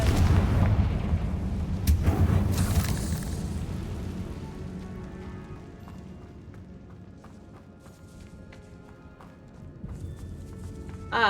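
A Confringo blasting spell explodes in the video game Hogwarts Legacy inside a spider-filled tomb: a loud booming burst at the start that rumbles and decays over several seconds, with faint scattered rattles and small impacts afterward.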